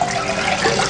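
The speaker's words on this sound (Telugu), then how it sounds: "కాదు, వాటర్ పోయాలి." Water pours into a pan on a stove during home cooking of chicken broccoli fried rice, a steady close splashing rush lasting the whole second, with no talking.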